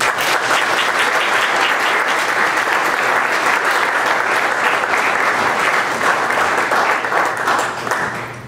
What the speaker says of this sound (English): Please give Dr. Price-Spratlen a warm round of applause